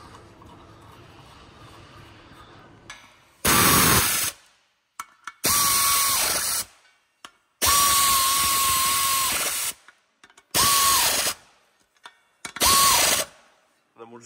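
A power tool tightens new bolts on a Vaderstad seed drill during a disc and bearing overhaul, in about five loud whirring bursts, each one to two seconds long, separated by quiet gaps and small clanks.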